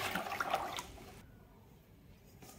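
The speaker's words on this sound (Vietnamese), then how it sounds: "Mình cho vào thau 3 lít nước, một muỗng canh muối. Mình khuấy lên." Salted water is stirred in a basin before mulberries are added to soak. A short, faint swishing slosh lasts about a second, then the room falls quiet with only a low background hum.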